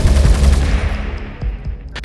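Machine gun automatic fire, a rapid burst of heavy booming shots that fades into a decaying rumble, loud and close with no voices.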